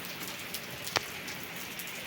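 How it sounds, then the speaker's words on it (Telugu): Rain falls in a steady, faint, even patter with one brief louder drop, heard alone without voices. "ఇదండి వర్షం అలా వచ్చేస్తుందండి"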